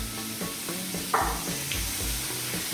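Chorizo risotto, finished with lemon juice and Parmesan, sizzles steadily in a pan while a spoon stirs it, with a continuous close hiss broken by soft scraping strokes and a brief clack of the utensil.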